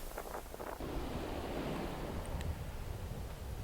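Sea waves washing onto the beach at Seaford, a broad steady rushing surf mixed with wind buffeting the microphone, faint and distant.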